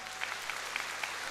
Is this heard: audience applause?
yes